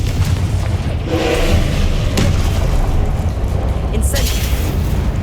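A Confringo blasting curse goes off in Hogwarts Legacy, a dense booming blast that swells near the middle of the scene and mixes with continuous rumbling spell effects, a bright crackling burst flaring near the end.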